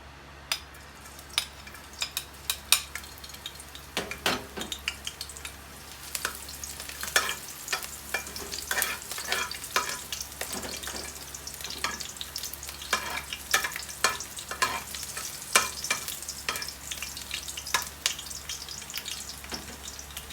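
Purple eggplant and pork stir-fry sizzling loudly in a pan, with frequent sharp scrapes and clinks of a spatula stirring against the metal throughout, close up and with no talking.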